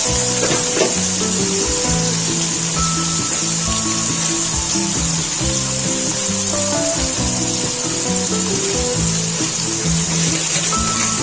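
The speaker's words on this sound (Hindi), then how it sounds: "प्याज लहसुन अदरक के साथ हमें जीरे को डालूंगा क्योंकि इसका बहुत मजे का फ्लेवर होता है।" Cumin seeds with onion, garlic and ginger frying in hot oil for restaurant-style Lahori chickpeas, giving a dense, continuous, loud sizzle that stays steady throughout, with no talk.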